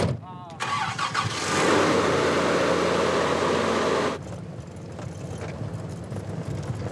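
A car engine starts and roars off along a desert track leaving an archaeological dig site in Egypt, bound for Cairo. A loud burst of revving settles into a quieter, steady rumble as it drives away, with faint talk underneath.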